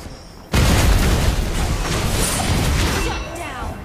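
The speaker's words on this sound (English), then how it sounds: "Our turret has been destroyed." A turret is destroyed in the video game LING with a sudden heavy explosion that bursts in loudly, then becomes a sustained roaring rumble that fades slowly over a few seconds.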